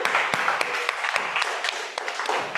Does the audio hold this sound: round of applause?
yes